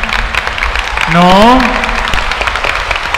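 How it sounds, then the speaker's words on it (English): A church audience claps at a shrine gathering; dense, fast applause fills the background while someone speaks over it and a single sung or drawn-out tone rises briefly in the middle. "Can you give a loud clap to Jesus?"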